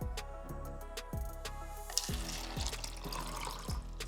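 Water is emptied from a magic lota vase in gurgling, splashing bursts about every half second, quiet and close, with no talking.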